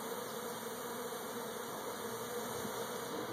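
A male honeybee drone buzzes close by during a swarm catch in a steady, continuous hum that stays even throughout, with no voices.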